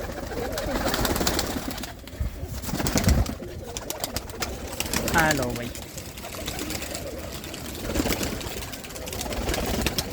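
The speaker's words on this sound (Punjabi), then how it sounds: "ਗੋਲਡਨ ਜੀਰੇ ਕਮੱਗਰ ਟੈਡੀ ਹਰ ਤਰ੍ਹਾਂ ਦੇ ਕਬੂਤਰ" Domestic pigeons of several breeds, including golden, jira, kamagar and teddy, coo repeatedly close by in a loft, their soft rolling calls overlapping while someone talks over them throughout.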